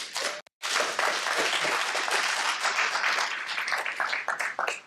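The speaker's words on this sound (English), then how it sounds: "Let's all give him a hand." An audience at a security conference talk applauds as the speaker is welcomed, a dense, steady wash of clapping from many hands lasting several seconds with no speech.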